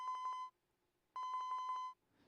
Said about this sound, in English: Suddenly, his phone rang,